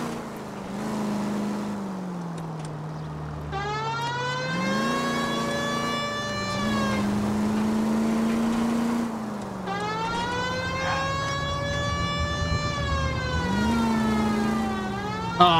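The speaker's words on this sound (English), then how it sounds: "You got something against sirens, Phelps?" A police car siren in the LA Noire video game wails in long rising and falling sweeps over a steady engine drone, loud and continuous throughout.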